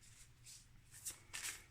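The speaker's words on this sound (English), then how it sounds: "These cards are so very difficult to separate and shuffle." Tarot cards being shuffled by hand, a few soft riffling swishes with two brighter bursts near the end, faint and close with no talk.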